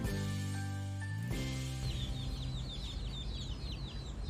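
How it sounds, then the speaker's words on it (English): A mother hen clucks softly and repeatedly as she leads her chicks through a quiet, deserted Sunday market in Avarua, Rarotonga, Cook Islands, her calls close and steady over faint high chick peeps and a low background hum. "a mother hen leading her chicks across our path"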